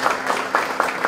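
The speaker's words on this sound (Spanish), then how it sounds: "Tributemos el aplauso para ellas" A crowd claps for beauty pageant candidates at a municipal reception, a short burst of scattered, moderately loud applause with distinct individual claps standing out, no talking over it.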